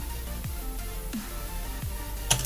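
The rear door of an Iveco Evadys bus in Euro Truck Simulator 2 opens and closes with a few short pneumatic swishes and thumps, spaced out over a constant idling engine drone, ending in a brief sharp click.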